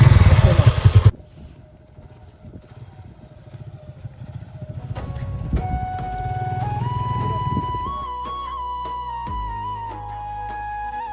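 A motorcycle kicks into life after a brief rough burst, then idles and revs, its engine pitch climbing and shifting as it pulls away and rides on steadily, close and fairly loud.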